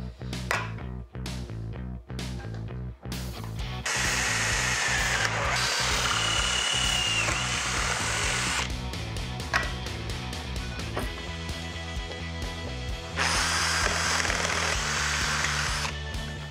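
A power drill boring a series of holes in a workshop while a camera rail mount is built, heard as several short drill bursts early on, then longer sustained whining runs at close range with pauses between them.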